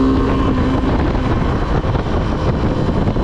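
A 2022 Suzuki V-Strom SX 250 motorcycle engine runs steadily while riding, a continuous drone mixed with heavy wind rush throughout.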